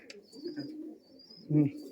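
Giribaz pigeons at a pigeon sale in Murshidabad, West Bengal, coo in low, throaty murmurs that swell into a louder burst near the end, close by with a faint voice in the background.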